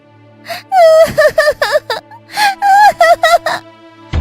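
A child wails and cries loudly in repeated drawn-out sobbing bursts with short gasping breaks between them, close and distressed.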